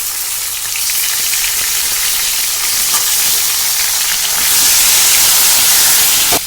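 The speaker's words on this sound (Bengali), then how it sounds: "আলুটা আমার ভাজা ভাজা হয়ে গেছে ওর সাথে আমি দিয়ে দেবো টমেটো কুচি" Fried potatoes sizzle loudly in a pan on the stove as chopped tomato goes in for a winter-vegetable khichuri, a close, continuous hissing fry with stirring, swelling louder near the end.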